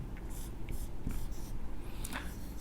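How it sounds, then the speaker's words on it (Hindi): A pen or marker writes on a board during a class nine mensuration lesson, producing quiet, close scratchy strokes in short repeated bursts with no talking. "चलिए यहां पे लिख लेते हैं साइड में"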